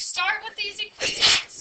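A single sharp sneeze bursts out right after a person speaks, close and fairly loud.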